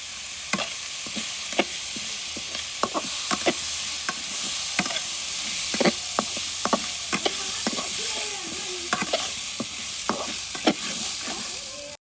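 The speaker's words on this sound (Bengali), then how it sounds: "চালটা আমার ভালোভাবে ভাজতে হবে।" Raw rice fries with cinnamon and cardamom in a pan of browned onions for katla fish-head biryani, giving a steady sizzle broken by repeated sharp scrapes of a spatula stirring at irregular intervals.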